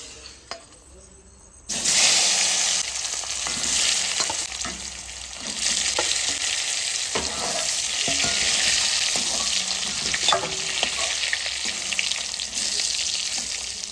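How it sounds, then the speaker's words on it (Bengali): Boiled potatoes fry in hot oil with cumin, bay leaf and dried chilli. After a brief quiet moment, a loud, steady sizzle erupts and continues with occasional stirring clicks. "জিরে তেজপাতা শুকনো লঙ্কা তেলে দিয়ে দেবো সিদ্ধ আলুটা ভেজে নেবো"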